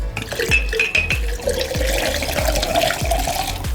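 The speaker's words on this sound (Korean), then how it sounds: "여기에 소주를 한 병 다 넣어줍니다." A whole bottle of soju poured into a large glass already holding brewed tea, a steady liquid gurgle with rhythmic glugs from the bottle neck, close and continuous.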